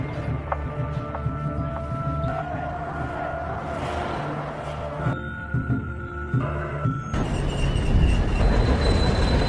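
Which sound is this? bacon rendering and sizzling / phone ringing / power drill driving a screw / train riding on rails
train riding on rails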